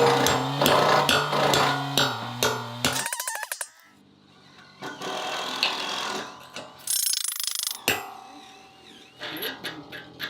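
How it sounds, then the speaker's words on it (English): A ratchet clicks in quick, rhythmic strokes as it tightens anchor bolts set into epoxy-filled holes. Metallic clanks and tool noises follow the ratcheting, close and fairly loud. "Now we can drive our bolts in, snug it all up,"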